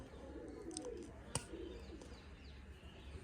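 Red-headed pet pigeons coo softly at a home loft, a low murmuring burble over steady background noise, with a single sharp click partway through.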